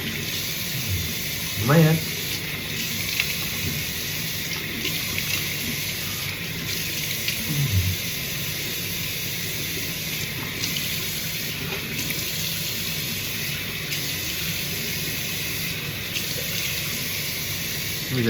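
Tap water runs steadily into a sink while beard dye is rinsed out, a continuous close hiss with a few brief knocks, under occasional speech.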